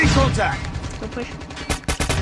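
Rapid automatic gunfire in the shooter game Call of Duty Mobile, a dense, loud burst of shots with sharp cracks toward the end, under game sounds and voices talking.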